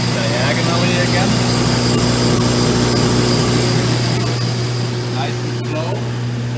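A DM1100 belt grinding machine runs steadily and loudly with a constant hum as a part is fed diagonally across the belt on its burr side. The grinding continues throughout, and a person talks faintly underneath.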